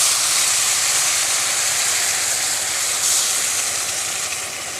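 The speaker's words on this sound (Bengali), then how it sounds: "এরপর পরিমাণ মতো জল দিয়ে দেবো" Water is poured into a hot pan of prawn curry, making a steady broad hissing sizzle that carries on for several seconds and eases off slightly at the end.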